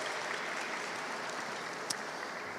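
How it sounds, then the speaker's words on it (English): Audience applause at a State House rally, a steady wash of many hands clapping that stays fairly faint and even throughout. "Please give them a round of applause."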